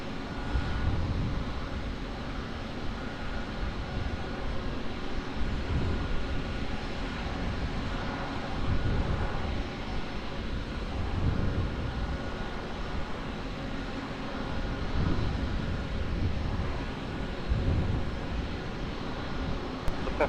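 An aircraft landing on runway 20 at Lisbon Airport gives a steady, broad engine roar that holds at a fairly even level for about twenty seconds, heard from a distance with no talk.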